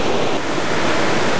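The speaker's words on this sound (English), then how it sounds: "with the noise of the waterfall" Eas Fors waterfall on the Isle of Mull pours in a steady, loud, close roar of rushing water, heard alone with no voices.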